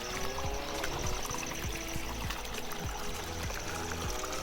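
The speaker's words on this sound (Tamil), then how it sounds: "இதுக்கு எங்கேயோ மலையிலேருந்து தான் தண்ணி வருதுன்னு நினைக்கிறேன்," Mountain water flows and trickles steadily through a tea estate in Kotagala, a soft continuous pouring and babbling with small splashes, fairly quiet and with no talk over it.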